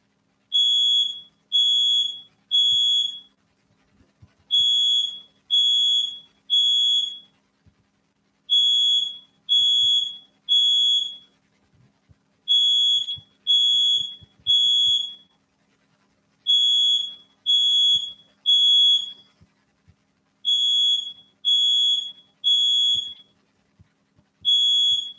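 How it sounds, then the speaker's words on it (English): A building fire alarm under test sounds loud, piercing electronic beeps in repeated bursts of three, separated by short pauses and continuing steadily with no talking. "the testing fire alarm in my building"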